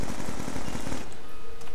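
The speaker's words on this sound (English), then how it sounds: "I could tell by the gunfire." Rapid machine gun fire in Black Ops 2 Zombies on the Buried map, a dense burst of repeated shots for about a second, then tapering off into quieter game ambience.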